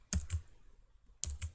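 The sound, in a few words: typing on a computer keyboard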